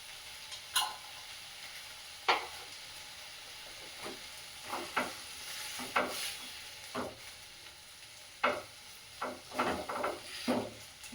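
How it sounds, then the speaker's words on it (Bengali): Tomatoes stirred in a frying pan, with a low sizzle under a series of sharp spatula scrapes and knocks against the pan, scattered irregularly and clustering toward the end. "টমেটোটা একটু নাড়াচাড়া করে নিয়ে তারপরে তেঁতুলটা দেবো।"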